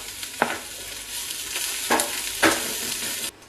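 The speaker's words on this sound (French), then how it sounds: "une fois que c'est fini, on va faire revenir des oignons." Onions frying in a pan while cabbage rolls are being made, a steady close sizzle with three brief stirring scrapes spread through it, then cutting off near the end.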